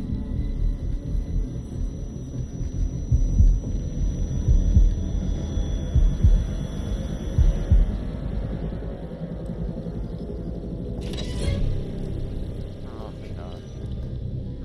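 A throbbing heartbeat effect in The Dark Pictures Anthology: The Devil in Me video game, a steady low pulsing rumble that carries on throughout, loud and continuous, with a brief sharp noise near the end.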